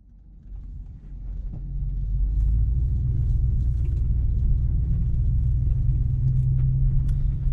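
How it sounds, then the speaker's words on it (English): A truck engine in an Alaska trucking yard turns over and catches, then settles into a deep, steady rumble that grows louder in the first two seconds and holds up close, with no talk. "let's pull up here to the yard and get this truck started"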